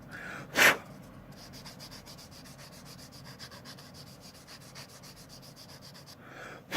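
A sanding stick rubs over a plastic part of a Warlord Soviet T-34/76 medium tank model kit, a continuous close scratchy hiss in steady strokes, with louder bursts at the start and the end.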